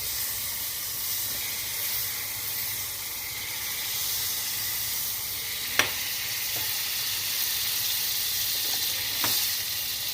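Butter sizzling steadily in a hot pan while buffalo wing sauce is prepared, a continuous bright hiss with a couple of sharp pops and crackles, close and alone without talk.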